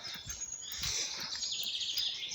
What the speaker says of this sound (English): And the birds are birds. I think you're gonna hear them in the background the whole time.